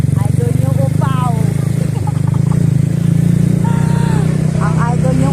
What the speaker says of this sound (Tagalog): Ang idol nyo Upaw nagdala og motor nga sama niya kamubo